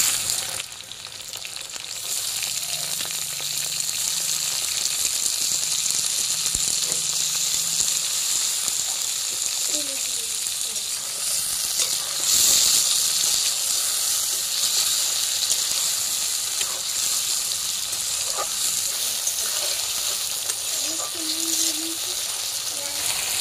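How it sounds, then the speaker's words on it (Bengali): Chopped tomatoes hitting a pan of fried onions set off a steady, loud sizzle with faint scraping and stirring, continuous for over twenty seconds in a home kitchen. "এখন আমি এর মধ্যে দিয়ে দিচ্ছি টমেটো কুচি।"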